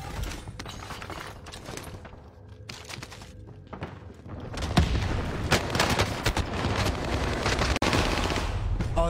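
Rapid bursts of automatic gunfire in the video game Warzone, dense and loud, building into heavier sustained shooting in the second half with sharp mechanical clicks mixed in.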